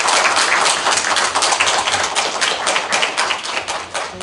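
A lecture audience in a Japanese parliamentary members' office building breaks into loud, dense, continuous applause close by, with no speech over it.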